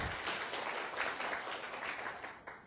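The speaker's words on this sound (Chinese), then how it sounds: "大家鼓掌一下。" Applause from an audience at a lecture welcoming hospital-director speakers: a soft, sustained patter of many hands clapping, fairly distant and quiet, lasting a few seconds before tapering off.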